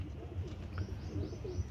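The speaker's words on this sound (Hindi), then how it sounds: "ये सारे कबूतर हैं" Pigeons kept in a loft in Lucknow coo softly and rhythmically, low repeated throaty calls close by with a faint chirp mixed in, and no voices.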